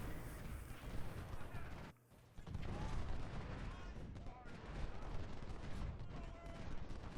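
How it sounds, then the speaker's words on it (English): Artillery fire in Ultimate General: Civil War, a dense, continuous battle din of cannon booms and musketry, faint overall, with a brief dip in the noise around two seconds. "So my artillery is providing support"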